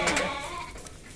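Sheep bleat in a flock, a couple of quick wavering calls up close followed by fainter bleating, with no one talking.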